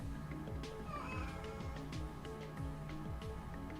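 A pet cat whines and meows indoors with drawn-out wavering cries over a steady background hum, fairly faint and without speech.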